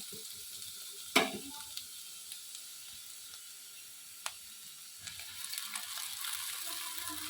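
Vegetables for Kolkata street-style egg chowmein fry on high flame in a pan, a quiet steady sizzle broken by a sharp metallic clank of a spatula and later scraping and stirring.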